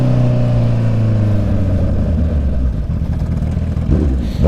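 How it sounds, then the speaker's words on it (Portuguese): A Honda CB650 motorcycle's exhaust roars nearby with a loud, deep, steady rumble and some uneven throttle pulses. No voices are heard. "Parece que tem dinamite no escape da moto"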